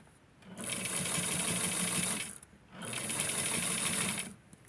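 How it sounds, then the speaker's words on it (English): A sewing machine stitches a tiny American Girl doll bathing suit in two steady, close bursts of fast, even whirring. A brief pause separates the runs, and the machine goes quiet again at the end. "continuing on over here with sewing the American Girl bathing suit"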